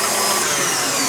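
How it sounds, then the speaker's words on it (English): An electric mixer whips egg whites to stiff peaks for eggnog, giving a loud, steady whirring drone that runs without a break, close by with no talk. "I'm going to whip up all of the egg whites"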